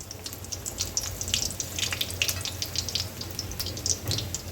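Medu vada fry in hot oil and are turned over, producing a close crackling sizzle with dense sputtering pops over a low steady hum.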